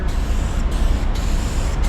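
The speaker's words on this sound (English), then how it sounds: "So it's basically a fade out spray." Aerosol spray can of Q-Pole blend fade-out clear coat spraying, a continuous hissing spray broken by short pauses into about three bursts, close and fairly loud.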